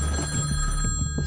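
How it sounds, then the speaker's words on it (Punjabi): A telephone rings loudly and steadily in a short close burst. "ਸਭਾ ਦਾ ਫੋਨ ਆ ਗਿਆ"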